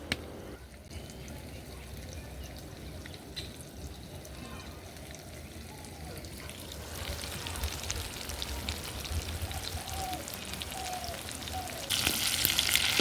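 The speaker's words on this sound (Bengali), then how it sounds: "তাই আমি এই বেগুনগুলোকে এখন উল্টে দিচ্ছি" Egg-stuffed eggplant pieces sizzle steadily in hot oil in a frying pan, a continuous crackling hiss that grows slightly louder and brighter toward the end as the pieces are turned, with no talking.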